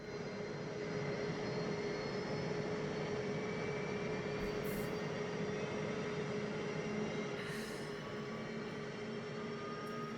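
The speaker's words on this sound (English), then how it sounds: "we can go idle on the second engine" Steady jet engine roar from an F-15E Strike Eagle spooling up in the DCS World flight simulator, a continuous loud drone with faint rising whine tones throughout, no talking.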